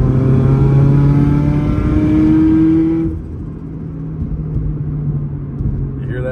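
A turbocharged 2022 Toyota GR86 / Subaru BRZ engine revs loudly with a rising whine for about three seconds, then the throttle snaps shut and the rev drops into a rumbling idle as intercooler air backs against the throttle plate.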